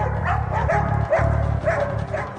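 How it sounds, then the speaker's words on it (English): Police dogs bark loudly and close up, with a rapid series of deep, repeated barks and yips running continuously through the short stretch. "Even the police dogs are picking up on the tension."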